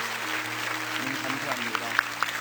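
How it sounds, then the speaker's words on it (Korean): Congregation applause in a Korean church during an autumn special dawn revival service, blessing a choir team after their special song; even clapping with a low hum underneath and a few sharper claps near the end. "우리 큰 박수로 축복해 주시기를 부탁드리겠습니다"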